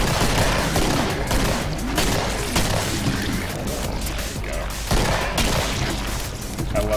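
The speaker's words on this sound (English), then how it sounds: "I love that slow-mo headshot." Rapid gunfire in the video game Killing Floor, with dense overlapping shots and impacts during a slow-motion headshot, loud and continuous throughout.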